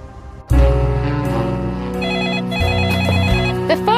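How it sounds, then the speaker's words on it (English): A telephone rings in a comedic radio drama about a holistic detective agency: a loud, warbling electronic trill that starts abruptly and repeats in bursts, close and prominent with no voices over it. "The phone's ringing, Mr. Gently."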